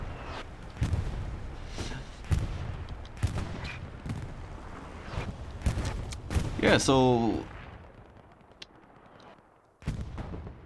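Explosions and artillery fire in a video game battle with tanks, repeated sharp booming blasts in irregular succession, with a commentator talking over much of it and a quieter stretch near the end.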